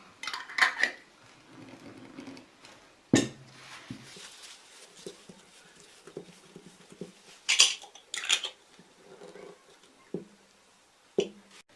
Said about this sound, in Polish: Po napełnieniu brzegi słoików dokładnie wytrę i zakręcę.